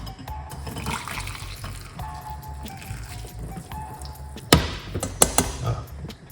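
Homemade herbal tea of rosemary, garlic, ginger and cloves is poured into a mug, giving a steady liquid trickle over background noise, with a few sharp clinks and knocks near the end.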